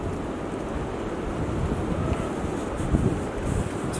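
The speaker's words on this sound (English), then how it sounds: "It's really windy out here." Strong wind blowing outdoors, a steady, fairly quiet roar and buffeting across the microphone with no voices.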